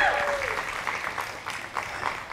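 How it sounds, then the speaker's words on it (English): An audience claps steadily in a round of applause for a volunteer, a dense, even patter of many hands after a short spoken word at the start. "Give Adam a round of applause."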